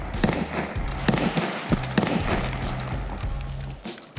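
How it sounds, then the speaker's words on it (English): Several sharp gunshots nearby in Escape From Tarkov, irregular cracks and thumps spread over a few seconds amid shifting in-game background noise. "There were some shots nearby"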